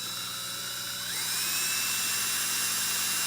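A high-pitched drill whines close up while drilling a hole in a plastic aquarium tube, its pitch rising briefly as it bites in, then holding a steady buzzing whir.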